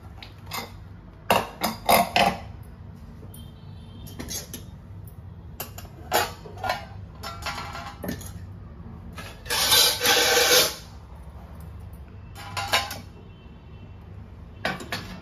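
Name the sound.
opening a pressure cooker of potato rice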